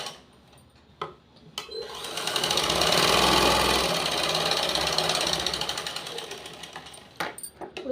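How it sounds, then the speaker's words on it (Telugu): Sewing machine stitching blouse fabric, starting with a few clicks and handling knocks, then a steady fast mechanical whir that rises and falls over several seconds before stopping, close up with no talk. "ఇలా మళ్ళీ తిప్పేసి దీన్ని పైనుంచి ఒక స్టిచ్చింగ్ అనేది వేసుకోవాలి."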